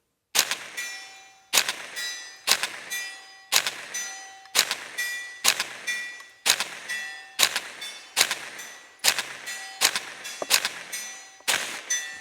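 A Tippmann Arms M4 .22LR rifle fires CCI standard velocity rounds at an outdoor range. About ten sharp, evenly spaced shots ring out, each followed by a short ringing tail, with no talking.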